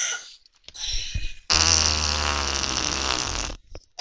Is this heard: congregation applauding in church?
no